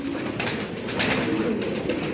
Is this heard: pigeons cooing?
yes